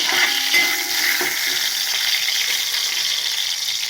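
Milk rice porridge (palkanji) is stirred in a pot after a tempering is added, making a steady close sizzle with faint spoon clinks throughout and no speech.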